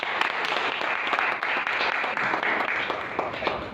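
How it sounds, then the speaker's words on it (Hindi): Applause from a gathered audience at a religious talk, steady crowd clapping with overlapping hand claps filling the whole stretch at moderate level, with no speech on top. "ताली बजाओ"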